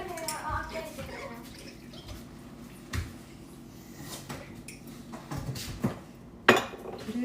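Dishes being washed in a kitchen sink, with scattered clinks of plates, pots and cutlery and a few louder knocks, moderately close, under low background talk.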